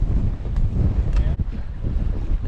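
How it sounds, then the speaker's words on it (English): Wind buffeting a microphone during walleye fishing on open water in South Dakota, a steady low rumbling roar with brief gusty bumps throughout. "Nice and windy."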